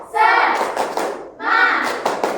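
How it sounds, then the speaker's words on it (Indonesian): A fourth-grade elementary class does a rhythmic tepuk semangat spirit clap, crisp hand claps landing in a quick pattern beneath loud, chanting children's voices in two energetic bursts. "kita tepuk semangat dulu ya"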